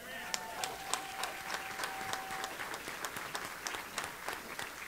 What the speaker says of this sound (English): Let's cheer Brittany on tonight.